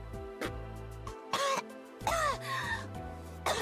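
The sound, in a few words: coughing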